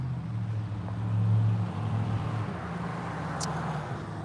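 A vehicle engine idles low and steady nearby, swelling slightly as it rolls to a stop, with faint traffic hum in the background.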